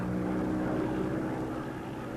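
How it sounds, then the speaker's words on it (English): A WWII Grumman Avenger aircraft missing its left wheel returns to an aircraft carrier for landing, a steady loud propeller-engine drone sustained throughout with no talk. "Here, one of our aircraft, an Avenger, returns with a missing left wheel and makes a safe landing."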